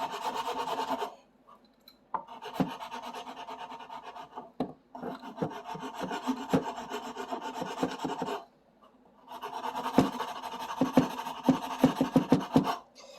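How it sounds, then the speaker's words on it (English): A file rasps back and forth on a guitar nut during a neck refurbishment, close and fairly loud, in two long runs of steady rhythmic strokes separated by brief pauses. "What I'm doing now is just filing down the neck a bit. The nut, sorry."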